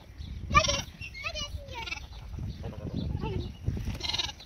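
Goats bleat at a farm-animal area on the Landgoed Ruwinkel estate in Scherpenzeel, with three loud nearby cries spread across the moment while children and adults talk in between.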